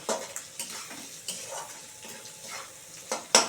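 Garlic fries in a pan for a rohu fish and taro greens dish, with a soft sizzle broken by a spatula's irregular scrapes and clinks against the metal, close by.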